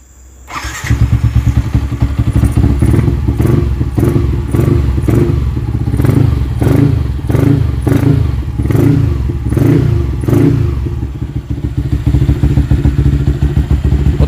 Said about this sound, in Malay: Sedap kan bunyi exhaust ni.